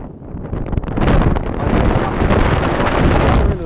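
Heavy wind buffeting the microphone at Kata Beach, a loud continuous roaring rumble that builds after the first second and persists throughout.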